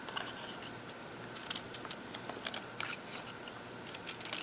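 Scissors trimming paper for a handmade craft card, a quick series of crisp, close snips coming in irregular bursts over faint room hiss.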